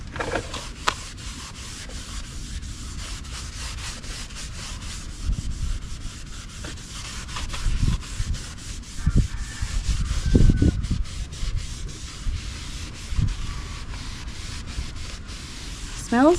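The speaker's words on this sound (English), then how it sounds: "we're gonna use the applicator to evenly spread it out" Applicator pad spreading ceramic coating across a Challenger Hellcat wheel, heard as soft, steady close rubbing with a few louder swipes, quiet and continuous with no talking.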